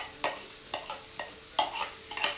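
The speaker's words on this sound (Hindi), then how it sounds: "जीरा फ्राई होने के बाद अब हम डालेंगे इसमें 2 मीडियम साइज के प्याज चॉप किए हुए।" Two medium chopped onions fry in oil with cumin, a soft sizzle under repeated spoon strokes that come as sharp scraping bursts at irregular intervals, close and fairly quiet.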